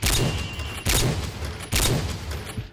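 Gunfire from the S-Tac Aggressor weapon in a video game, three loud, sharp bursts of shots spaced evenly, each with a short ringing tail.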